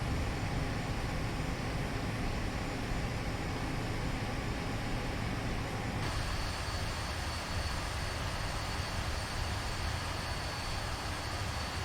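Steady broadband engine roar of a QualityWings Avro RJ100 taxiing at Zurich in a flight simulator, continuous and fairly loud, with the tone shifting slightly partway through.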